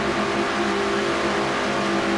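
Race car number 11 drives around Michigan Speedway in a Castrol GTX Cup Series race, its engine a steady, loud, buzzing drone held at high revs throughout.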